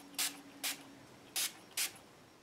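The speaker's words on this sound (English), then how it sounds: "I'm bringing in a distress spray stain, dried marigold." Four short bursts of Distress Spray Stain in Dried Marigold, hissing in two pairs with brief pauses between them, close and fairly loud.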